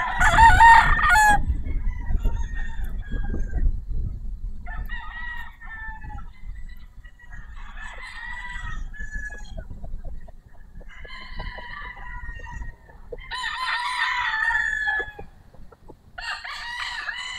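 White Kelso rooster crowing at a gamefowl sale, several distinct crows in succession across the stretch, loud and fairly near, with clucking and rustling from other fowl between them.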